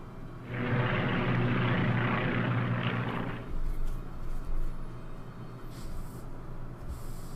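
Aircraft moving in the World War II strategy game Strategic Command, a broad roaring engine drone for a few seconds that then cuts off, leaving quieter low rumbling and faint effects.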